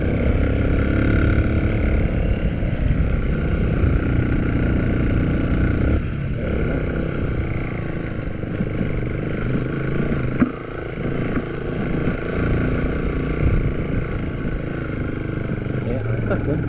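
A motorcycle rides off-road along a wet forest trail. Its engine holds a loud, steady drone with slight dips, heard close from the bike and mixed with wind rumble.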